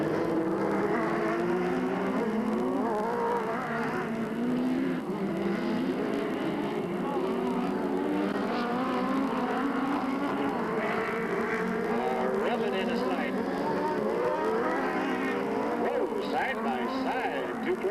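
Race cars on a dirt speedway track roar through the corners under caution, a continuous loud engine drone with shifting pitch, while an announcer talks over it throughout.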